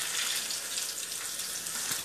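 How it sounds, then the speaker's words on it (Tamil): Paneer frying in hot oil in a pan as the pieces are turned, a steady bright hiss and crackle throughout with no talking. "இப்போ வந்து பன்னீர் நாங்கள் எண்ணெயில் போட்டு இப்போ டர்ன் பண்ணுறதுடைய நேரம் வந்துச்சு"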